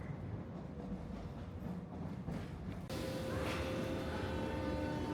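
A Paris metro train rumbles steadily through a tunnel, a constant loud roar with a sudden shift in tone partway and a faint metallic whine rising afterward.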